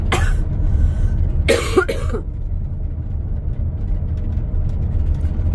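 A few harsh coughs burst out near the start, then a single louder cough around the middle, all over a steady low engine rumble from an electric camper van in a dust cloud.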